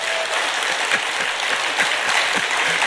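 A congregation at a Buddhist dharma service at Bulgwangsa temple claps for the monk speaker in a fairly even, moderate burst of applause.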